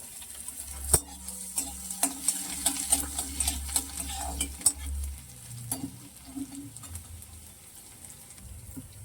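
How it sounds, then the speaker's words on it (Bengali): Grated ginger and garlic sizzle in hot oil in a wok, with a steady frying hiss and the sharp clinks and scrapes of a spatula stirring against the pan, close and fairly quiet. "কড়াই তেল বসিয়ে দিয়েছি, এবার দিয়ে দেবো হচ্ছে এই আদা আর রসুন গ্রেট করাটা"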